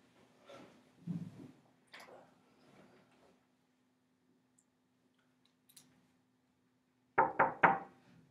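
Three sharp, close knocks on a door come in a quick burst near the end, after a stretch of quieter room sounds and faint earlier activity.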